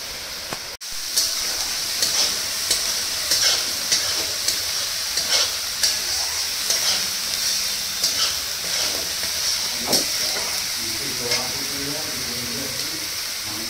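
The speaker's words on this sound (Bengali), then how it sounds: "পেঁয়াজটা ভালো করে কষিয়ে নিই" Onion sautéing in a pan for doi katla, a steady sizzle with repeated stirring scrapes at a regular pace, close and moderately loud, with faint voice sounds near the end.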